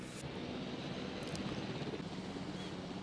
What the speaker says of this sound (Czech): vrtulník nám řídí ožralý pilot